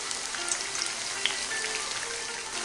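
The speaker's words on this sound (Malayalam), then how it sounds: "ഓയിൽ ചൂടായി കഴിഞ്ഞാൽ ഇതിലേക്ക് നമുക്ക് കട്ട് ചെയ്ത് വെച്ചിരുന്ന എഗ് പ്ലാന്റ് ഇട്ട് കൊടുക്കാം" Cut eggplant pieces fry in hot oil with a steady, dense crackling sizzle, close and even throughout, with a few louder pops and no talk.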